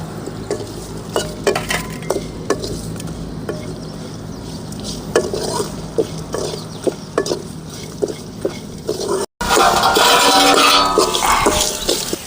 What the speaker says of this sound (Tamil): பொரிச்சு வச்ச மிளகாயை இதிலே கொட்டி வணக்கலாம்.